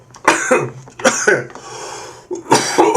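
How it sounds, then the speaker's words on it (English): Several harsh, loud coughs come in close bursts from someone nearby, separated by brief breaths and a short raspy throat sound. "I'm coughing too much here."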